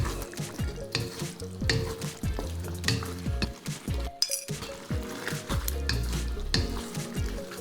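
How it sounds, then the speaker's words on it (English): Starch-thickened jjajangmyeon sauce stirred quickly in a hot pan, with a spoon scraping and clinking against the metal in rapid repeated strokes over a steady sizzle, close and with no talking. "Try to stir it as quickly as you can"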